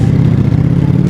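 A 2020 Ducati Streetfighter with a full Akrapovic exhaust runs loud and close, its steady deep engine rumble unbroken for the whole short moment.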